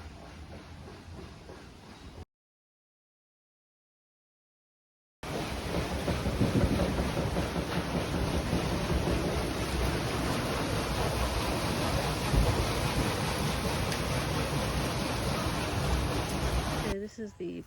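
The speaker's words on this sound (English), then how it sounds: "here's where the water's running down through" Creek water rushes steadily down a channel toward a big water wheel at Hopewell Furnace, a dense, loud, close hiss. It cuts out briefly near the start and then continues unbroken.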